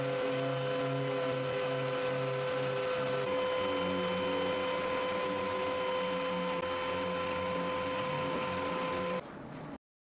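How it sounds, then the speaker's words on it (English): Power sander working over a wooden canoe surface, a steady droning whir with a constant tone that holds evenly throughout, then cuts off abruptly near the end. "She sands the surface with a machine"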